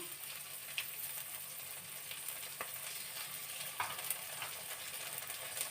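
Beans sizzle quietly in a pan as ginger paste and garlic paste go in, a soft continuous frying hiss broken by occasional light stirring clicks and scrapes, with no talking.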